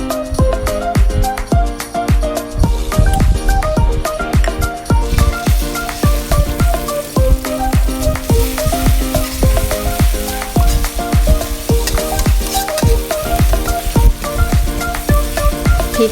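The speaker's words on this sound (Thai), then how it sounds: "แล้วเราก็ผัดพริกกระเทียมนะคะให้หอมนะคะ" Chili and garlic stir-fry in a little oil in a wok, a loud, close, continuous sizzle broken by a steady rhythm of spatula scrapes and stirring clatter throughout.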